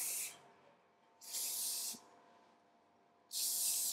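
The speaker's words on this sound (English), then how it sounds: "I'm going to spray in this oil sheen just to add some shine." Three short bursts from an oil sheen spray can misting onto hair, each a bright, airy hiss with pauses between them, close and fairly loud against a quiet room.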